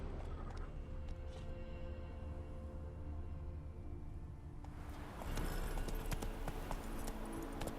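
Hooves of Roach, the horse in The Witcher 3 video game, settle into a steady background, then turn into a busier clattering galloping rhythm in the second half, moderately loud and with no talk.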